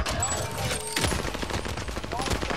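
Dense automatic gunfire in Call of Duty Modern Warfare, loud rapid bursts of shots crackling close over the game's background noise.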